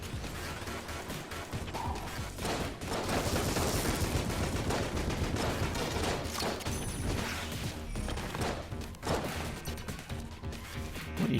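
Dense, continuous gunfire and crashing impacts in a shooter video game during a combat room fight, loud and sustained with rapid bursts, no voices over it.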